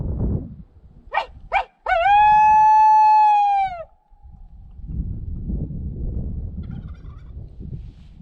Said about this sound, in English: he's gobbling his head off already on the tree